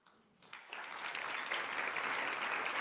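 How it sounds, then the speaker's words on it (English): An audience at a trade commission plenary session claps for ambassadors. The applause starts sparse, then swells into a steady, full round of clapping that fills the room. "Please give another round of applause for Ambassador Salazar, Ambassador McKay"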